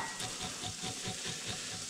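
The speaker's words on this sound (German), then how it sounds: "Den Speck kann ich einfach ohne Fett anbraten." Pancetta fries in a pan without oil, a steady close-up sizzle with faint rhythmic stirring scrapes running evenly throughout, no voices.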